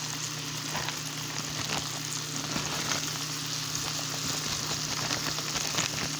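Apples cooking down with brown sugar in a pan, a steady close sizzle and crackle of bubbling fruit that holds even throughout, with no voices.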